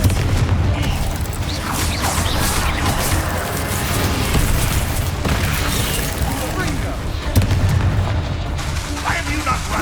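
Confringo fire spell blasts in Hogwarts Legacy, heavy booming explosions rolling through a dense, loud battle mix under a voice calling out.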